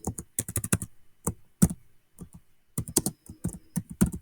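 Someone types a name on a computer keyboard, producing close, crisp key clicks in short irregular bursts separated by brief pauses.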